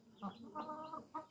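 A few hens in a family's backyard flock give three short clucking calls, close and fairly quiet, the middle one drawn out, with no talking over them.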